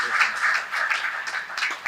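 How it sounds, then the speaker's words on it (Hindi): Audience clapping at a Hindi poetry recital, a fairly soft, continuous patter of many hands heard from a distance. "एक बार आप तालियां बजा दीजिएगा"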